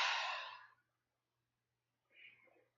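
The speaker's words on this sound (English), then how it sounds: "why am I yawning so much?" A person yawns: one long, loud breathy exhale that fades out, then after a pause a second, quieter breathy sound follows.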